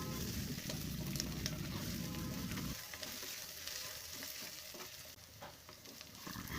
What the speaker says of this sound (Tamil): நம்ம கட் பண்ணி வச்சுருந்த வெண்டைக்காய் சேர்த்துக்கலாங்க. வெண்டைக்காயும் ஒரு 5 நிமிஷம் வதங்கட்டும்.